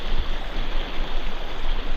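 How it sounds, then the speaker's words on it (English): A small waterfall pours steadily into a stream pool, a loud, even broadband rush of falling water heard up close, with no voices. "I gotta figure out what's going on with this waterfall"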